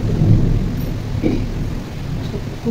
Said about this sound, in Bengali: বৃষ্টি হচ্ছে, বিদ্যুৎ চমকাচ্ছে